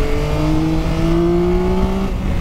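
A 2023 Yamaha Tracer 9 GT Plus motorcycle engine revving and accelerating up through the gears, a rising steady whine that briefly drops at a gear change, close and loud.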